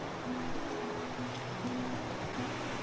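A river flows down from the mountains near Kilimanjaro in Tanzania, a steady, dense rush of water that fills the whole clip without a break, heard close and fairly loud with no voices.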